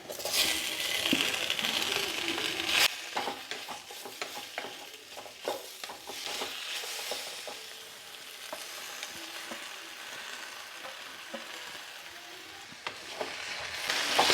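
Bilimbi pickle with turmeric being stirred in a pan over low heat: a spoon scrapes and clinks against the metal amid a soft constant sizzle, close and steady, with no talk.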